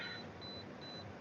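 Three short, evenly spaced high electronic beeps, faint against a steady background hiss.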